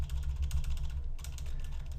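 A computer keyboard's backspace key struck repeatedly in a fast run of close, crisp clicks, with a short pause in the middle before the tapping resumes.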